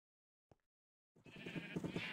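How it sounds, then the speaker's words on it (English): Sheep bleating in the Minecraft video game: a brief faint click early on, then a loud, sustained wavering bleat that fills the second half, heard alone with no talk. "I've got a few sheep."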